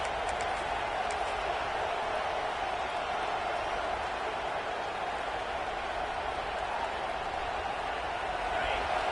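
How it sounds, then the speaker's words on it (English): Stadium crowd at a football game as the defense holds near the goal line, a dense, continuous roar of cheering that stays steady and loud throughout. "the crowd coming to life here, trying to help this defense down in the red zone"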